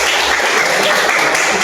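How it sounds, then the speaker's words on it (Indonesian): A classroom group in an Indonesian Islamic education teacher-training session breaks into applause, a loud, steady burst of many hands clapping together that fills the short moment without voices. "Tepuk tangan untuk kita semuanya."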